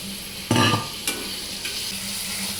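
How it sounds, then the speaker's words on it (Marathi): Large prawns being stirred into a frying tomato masala: a loud stir and sizzle burst near the start, a second scrape, then steady low frying hiss, close and without speech. "आता यामध्ये ह्या कोळंब्या घालून घ्यायच्या."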